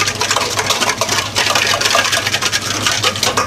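Rapid, steady metallic whisking of yeast and sugar in a bowl with a whisk, a continuous dense scraping rhythm close by with no talking.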